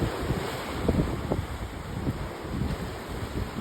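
Ocean waves and wind out on open water, steady roaring wash with heavy wind buffeting the microphone, continuous and loud throughout.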